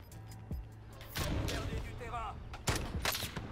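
Gunfire from a sniper duel in the video game Call of Duty: Warzone, a few sharp shots and impacts over ongoing game noise, with someone talking under it.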